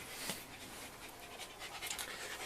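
A dog pants quickly and rhythmically close by indoors, the breaths soft but steady and continuous, with no talking.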